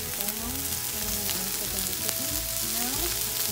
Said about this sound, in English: I put some bacon grease on